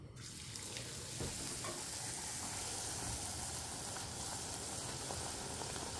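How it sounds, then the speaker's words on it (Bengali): Luchi, round flour flatbreads, fry in white cooking oil, giving a steady, close, hissing sizzle that holds evenly throughout with no talk. "সাদা তেলেতে ভাজাগুলো করব।"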